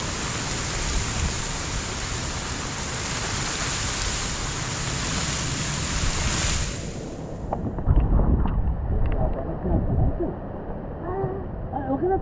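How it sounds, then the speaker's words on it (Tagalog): Wind gusts against the microphone at a seaside farm, a loud broadband roar that drops out partway through, followed by lighter rustling and a few faint voices in the background. "Dito po'y tabing dagat ay."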